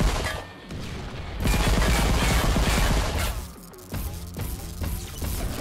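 Rapid automatic gunfire shooting at power sources in the sci-fi video game AKOV Space Bears, loud dense bursts of shots with crashing impacts, pausing briefly then resuming in quick repeated volleys.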